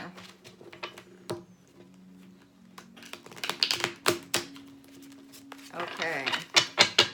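Quick, crisp riffling snaps of tarot cards being shuffled in short bursts, close by, with a voice talking between them.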